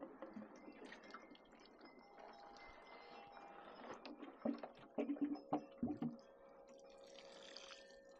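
Water pours and splashes onto dry garden bed plants on a deck, faint trickling and dripping with a few brighter splashes and clinks toward the middle, quiet and close, no talking.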